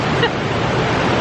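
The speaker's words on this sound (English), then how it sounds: "We've decided to call this one 2 waterfalls because there's one coming off the rock behind us into the stream" A waterfall spills off a rock into a stream in Germany's southern Black Forest, producing a loud, steady, close rushing roar with no breaks.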